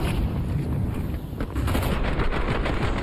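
Rapid gunfire erupts during a Counter-Strike match on the Inferno map as Simple lands a headshot: dense, loud bursts of shots over a constant wash of game noise, with sharper cracks clustering in the second half.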